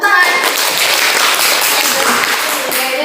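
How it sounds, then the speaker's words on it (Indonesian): A classroom group in Indonesia breaks into clapping on cue, a loud, close burst of many hands that stays strong across the moment, with some voices mixed in. "Oke, benar, tepuk tangan."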